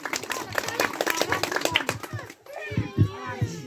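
Audience clapping at a district assembly speech in Bara district, a dense patter of hand claps with children's voices and chatter mixed in, then quieter with some talk at the end.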